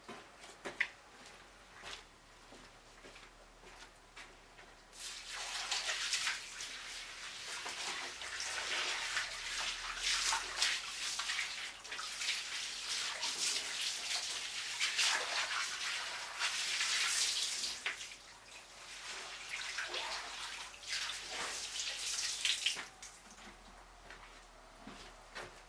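Water poured from a watering can to rinse out a chicken coop: after a few quiet seconds, a steady, splashing gush runs for most of the clip, then tapers off to quiet handling sounds.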